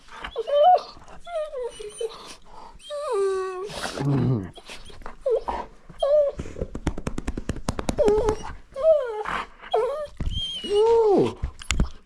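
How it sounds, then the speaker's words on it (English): Dogs whimper and yip in a series of high, wavering whines and short cries, close and fairly loud, with brief pauses and a few rough sniffs between them. "Dogs!"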